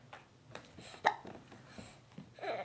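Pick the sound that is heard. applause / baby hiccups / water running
baby hiccups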